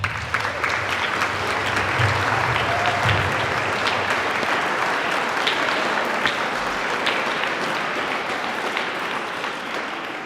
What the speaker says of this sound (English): please give all of our graduates a round of applause.